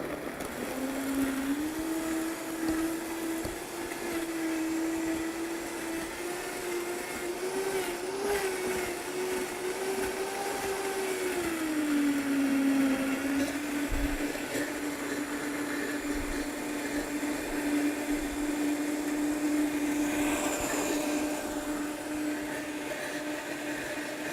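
A blender whirs as it mixes a blueberry muffin green smoothie with vanilla. The loud, steady motor drone runs without a break, and its pitch dips and rises slightly partway through.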